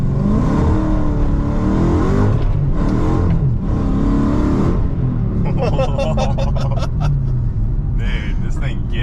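A stock car accelerates hard along a drive, its engine revving and whirring steadily beneath loud, continuous conversation between occupants.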